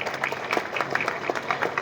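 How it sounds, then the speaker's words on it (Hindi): An audience at a vocational training institute award ceremony claps in a brief, moderately loud burst of applause with audible individual hand claps, heard alone. "आपकी तालियां बजती रहें"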